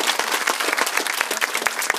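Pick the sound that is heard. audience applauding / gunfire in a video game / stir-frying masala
audience applauding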